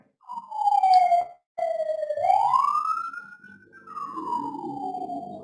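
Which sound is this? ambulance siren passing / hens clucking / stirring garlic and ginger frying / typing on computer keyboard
ambulance siren passing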